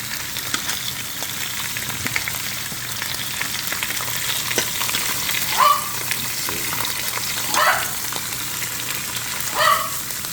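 Meat for birria searing in a hot pan, a steady close sizzle and crackle with a few louder bursts as pieces are shifted.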